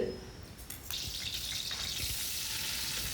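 Steady oil sizzle and crackle of ginger garlic paste sautéing in hot coconut oil, continuous and close, with a brief clatter near the start.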